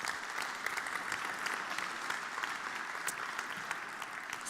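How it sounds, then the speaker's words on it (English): A conference audience in Berlin gives a warm round of applause, dense continuous clapping from many hands, steady and fairly distant, with no speech over it. "let's have a warm round of applause for these two"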